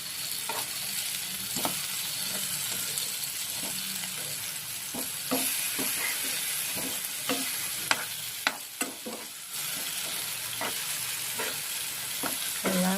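Pineapple slices fry in a pan with a steady hiss, broken by regular turning and scraping sounds from a utensil, with no voices.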